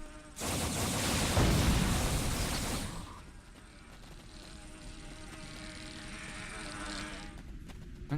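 A drone buzzes in a video game, loud and broadband for about three seconds, then drops to a lower, steady hum that carries on to the end.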